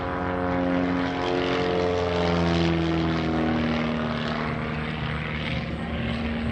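A propeller-driven aerobatic airplane's engine drones loudly and steadily through a tail slide at an airshow, its pitch sliding and wavering slightly as the aircraft moves backward.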